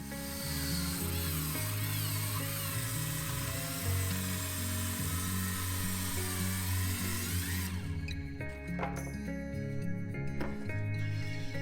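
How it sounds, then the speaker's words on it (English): Circular saw cutting a wooden stile for Japanese woodworking installation, a loud continuous whine with a shifting pitch that runs steadily, then cuts off partway through and leaves quieter low rumbling and a few knocks. "So cut off that portion by circular saw."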